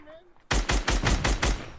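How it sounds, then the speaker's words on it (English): Video game gunfire, a rapid burst of about six loud, close shots in quick rhythm, following a brief stretch of faint voices. "Somebody's shooting at me."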